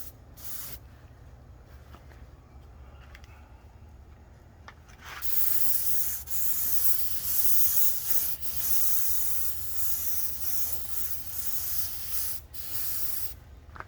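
TotalBoat varnish sprayed onto a teak window screen outdoors, a loud sustained hiss that starts after several quiet seconds and holds steady with brief breaks, close by and without talk.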